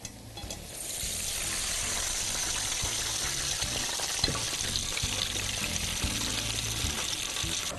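Mantis shrimp and garlic deep-fry in hot oil, giving a steady, dense crackling sizzle that holds evenly throughout, close up with faint clinks of utensils.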